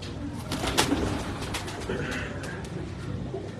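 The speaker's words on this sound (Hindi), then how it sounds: "ऐसा ही ये गुलाबी आंख वाला कबूतर" Pink-eyed pigeons on a Karachi rooftop loft coo in low, throaty repeated calls, close and steady beneath faint background noise, with a few sharper clicks and flutters mixed in.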